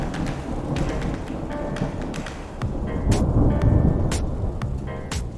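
A thunderstorm with steady heavy rain and repeated rumbling thunder, several sharp cracks standing out over a constant loud wash of rainfall.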